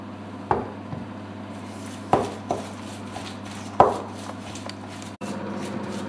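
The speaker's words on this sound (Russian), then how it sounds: "Так он растирается вместе с луком" Cooked beans being mashed together with onion by hand in a kitchen, heard as a few sharp, close knocks and squishy presses spaced a second or so apart over a low steady hum, with no talk.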